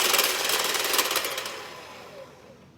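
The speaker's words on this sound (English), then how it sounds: "So just keep beating them until they're foamy." Eggs are beaten hard in a bowl with an electric mixer for pecan pie muffins, a loud high whirring rattle that fades and trails off toward the end.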